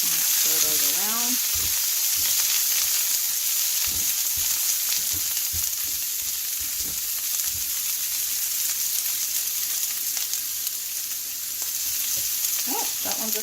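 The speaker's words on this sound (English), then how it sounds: "I always love the smell of cooking onions." Onions sizzling loudly in a pan, a dense continuous frying hiss with occasional stirring scrapes, close by; a brief voice-like sound appears near the start.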